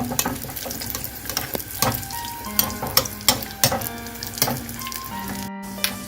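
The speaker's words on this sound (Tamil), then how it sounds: "முந்திரி நல்லா ப்ரௌன் ஆனதுக்கப்புறம் கூடவே இந்த திராட்சையும் எடுத்து வறுத்துக்கணும்" Cashews and raisins frying in ghee in a pan while cooking a sweet potato kheer, a continuous close sizzle broken by a few sharp clinks and scraping stirs.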